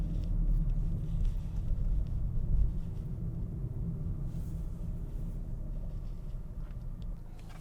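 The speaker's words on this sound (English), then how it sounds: "first gear. We're gonna give it wheel spin." A tuned MK7 Volkswagen GTI making about 300 wheel horsepower accelerates hard from first gear with wheel spin, a steady loud low engine rumble heard from inside the car with no talk.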